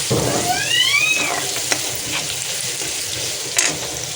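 Onion, curry leaves and green chillies frying in a pan, a steady close sizzle with faint stirring scrapes and a couple of sharp clinks, no talk.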